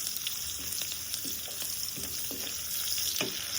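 Something frying on a low flame gives a steady, moderate sizzle throughout, with occasional soft taps and scrapes of a spoon in the pan.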